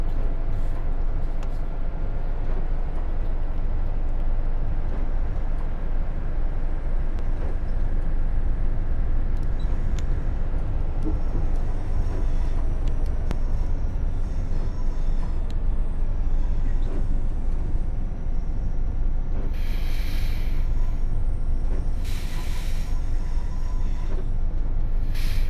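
A Class 802 train running between Exeter and Paignton, heard from onboard as a steady low rumble of wheels on rail with constant rattling, some faint squeals and a few brief higher noises near the end, continuous and loud throughout.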